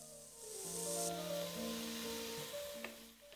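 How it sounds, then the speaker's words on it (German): Soft sizzling of pork belly cubes frying with ginger and leek in a pan without extra oil, under quiet background music, with a faint stir or scrape near the end. "wir braten die Schweinebauchwürfel zusammen mit dem Ingwer und dem Lauch an"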